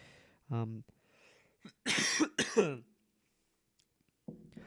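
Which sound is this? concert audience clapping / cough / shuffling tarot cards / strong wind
cough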